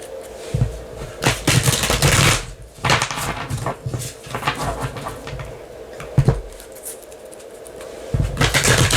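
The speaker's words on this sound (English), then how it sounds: "I'm going to give it a quick shuffle." A tarot card deck being shuffled by hand, bursts of riffling and card slaps in irregular clusters, close and loud with no talk.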